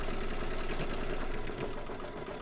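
An embroidery machine sewing a zigzag stitch on an in-the-hoop haunted house quilt block, a steady, continuous mechanical whir and rapid needle chatter running without pause, moderately quiet, with no voices.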